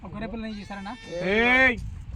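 Sheep bleat several times close by, wavering calls with the longest and loudest in the middle, mixed with background voices.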